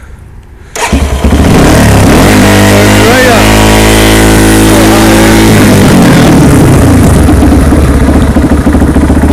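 A carbureted 2005 Yamaha TTR-230 dirt bike starts with the choke pulled out and catches after a second, then runs loud and close, with a brief rising rev before settling into a steady, rough idle.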